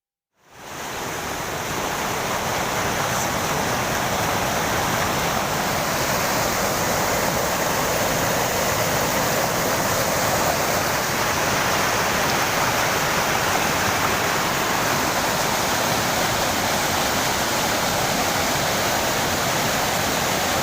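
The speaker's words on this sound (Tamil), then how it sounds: "இதனால் தாமிரபரணி ஆற்றில் தண்ணீர் பெருக்கெடுத்து ஓடுகிறது." Floodwater in the Thamirabarani river rushes past after surplus release from Pechiparai dam in Kanyakumari, a dense, loud, unbroken roar that holds steady throughout with no voices.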